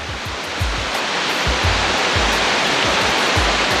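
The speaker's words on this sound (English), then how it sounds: "Got a rushing river." A rushing river on a steep mountain trail toward Deeks Lake, heard as a loud, steady broadband roar of churning water, continuous and close, with occasional low thumps, no voices.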